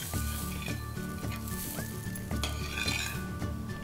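A rava dosa cooks on a hot pan with a steady low sizzle, while a spoon or spatula clinks and scrapes against the metal in a few repeated taps, fairly close and with no talk.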